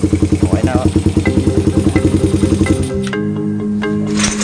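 A Suzuki Raider 150 motorcycle engine runs close by with a fast, even, pulsing idle thump, then the rhythm changes near the end as the revving shifts; loud and up front, alone without talk.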